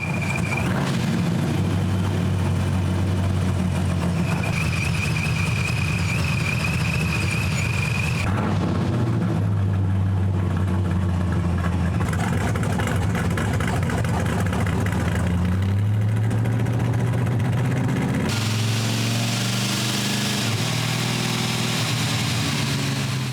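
Turbocharged engine being tuned, running rich at a steady idle with a low rumble and a faint whine, pitch stepping up and down in several stages, continuous and close with no talking.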